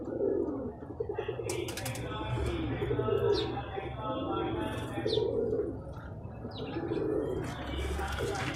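A newly paired male and female golden pigeon coo in repeated low, throaty rounds, with a steady backdrop of other birds chirping nearby while someone talks over them.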